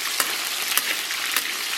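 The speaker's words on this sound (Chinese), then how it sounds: "咱们把葱姜蒜给它下里边。 给它煸炒出香味，" Scallion, ginger and garlic are stir-fried in moderately hot oil, giving a steady close sizzle with a few sharp spatula taps and scrapes. No one speaks.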